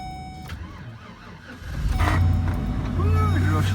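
A vehicle engine cranks and catches, rising into a steady running rumble after a brief quiet stretch, loud and close, with a short voice at the start.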